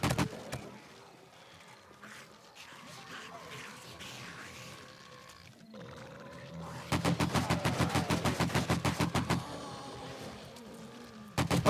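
Rapid AK rifle fire in the survival game 7 Days to Die, a loud automatic burst of closely spaced shots after a stretch of quieter game ambience and movement, with a final shot at the end.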